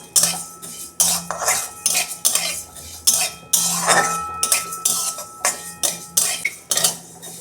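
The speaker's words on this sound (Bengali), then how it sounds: "ডালটা আমি শুকনো খোলায় ভেজে নেব। বন্ধুরা, ডালটা আমি 2 মিনিট ভেজে নেব।" Mung dal being dry-roasted in a pan, stirred so that a metal spoon scrapes and clinks against the pan in quick repeated strokes, with a faint steady hum underneath.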